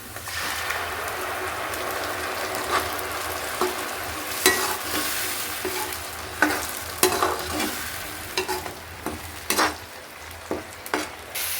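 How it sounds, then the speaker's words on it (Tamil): Mashed tomato paste frying in a pan with sautéed onions for pasta, a steady close sizzle with sharp stirring scrapes and clicks of a spoon throughout, no talking. "வெங்காயம் வதங்கினதுக்கப்புறம் வேக வச்சு மசிச்ச தக்காளி விழுத கொட்டணும்."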